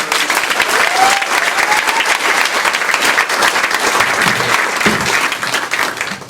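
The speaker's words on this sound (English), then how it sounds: "So one more round of applause for that very new group." Loud, sustained audience applause for a new theatre group at a play-in-a-day event, a dense wash of clapping from a full crowd that holds steady throughout.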